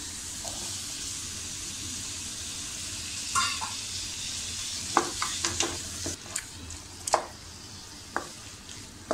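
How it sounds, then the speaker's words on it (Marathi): Capsicum and peas sautéing on a tawa for pulao: a steady, soft sizzle of frying vegetables runs throughout, with spatula scrapes and taps against the griddle growing more frequent toward the end, close by and without talk. "सिमला मिरची सुद्धा छान आपण यामध्ये परतून घेऊया"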